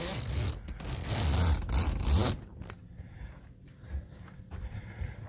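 The zipper on a bimini top is pulled closed in a quick, close, raspy run lasting about two seconds, followed by softer rubbing and handling of the fabric.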